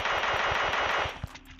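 PP-Bizon submachine gun in the mobile game PUBG Mobile Lite firing a loud, steady rapid burst that runs for about a second and then cuts off, leaving a brief trailing tail.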